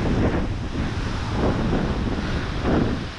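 Strong wind gusting steadily across the microphone on hillside stairs in Busan, a loud continuous roar with swelling buffets and no talking.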